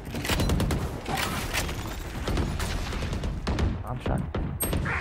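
Gunfire in a shooter video game, rapid bursts of shots cracking continuously and loudly, with intermittent mechanical clatter mixed in.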